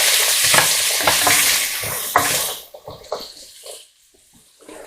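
Chopped carrots stirred in a hot frying pan, loud scraping and sizzling for about two seconds, then tapering into quieter intermittent clinks and faint sizzle.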